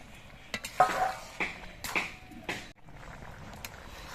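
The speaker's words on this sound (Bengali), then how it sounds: "কাজু কিশমিশ দিয়ে নেড়ে চেড়ে মিশিয়ে নিয়ে আমি পায়েসটা নামিয়ে নিচ্ছি" Sweet potato payesh with cashews and raisins being stirred in a pot, a scattering of soft scraping and clinking utensil strokes at an uneven rhythm, fairly quiet and close, with no talking.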